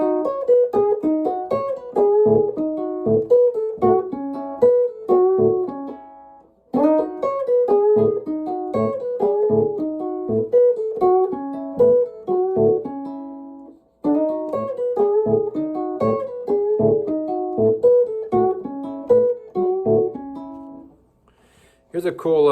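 Chicago blues electric guitar lick over a steadily thumped low A, the phrase cycling three times with short breaks, close and loud, no voices.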